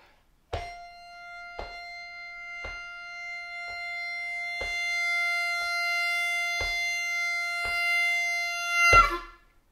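A Bb harmonica plays a blues lick: a series of short, evenly spaced breathy notes over one steady held tone, ending in a louder rising swell.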